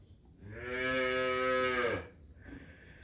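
A stocky heifer calf in a barn lets out one long, loud, drawn-out moo, with quiet barn noise before and after.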